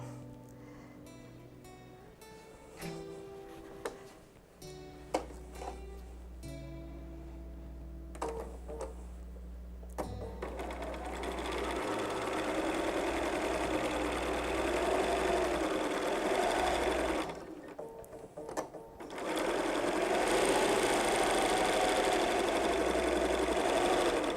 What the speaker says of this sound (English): let's just go ahead and sew that